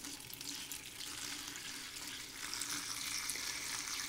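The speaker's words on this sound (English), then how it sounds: "take water, filtered water, please, and enough of it to go ahead and cover your herbs" Filtered water poured over herbs in a pot for a basic herbal decoction, a steady hissing splash that holds throughout and swells slightly toward the end, close and alone with no talking.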